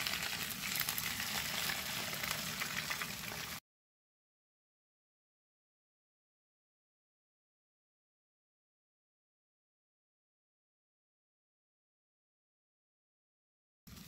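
Eggs poured into a hot pan for Tanzanian street-food chips mayai set off a loud, steady sizzle for about three and a half seconds before cutting to silence.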